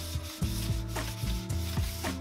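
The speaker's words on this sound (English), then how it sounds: "after a few slivers, we decided that a quick sand wouldn't hurt." Hand sanding a wooden screen door frame, repeated rhythmic rubbing strokes about every half second, close and steady with no talk.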